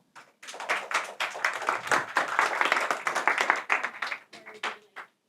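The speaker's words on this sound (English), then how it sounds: "let's welcome with a big round of applause our speaker, Piti Champeethong" Conference audience at a Python developer event claps to welcome a speaker; brisk, fairly close applause builds quickly, holds for several seconds, then thins to a few scattered claps.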